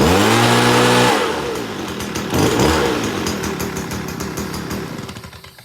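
A Stihl BR 200 backpack leaf blower's small two-stroke engine runs loud and close, a strong steady drone at first that drops after about a second, then rises briefly before settling into a slightly fading hum.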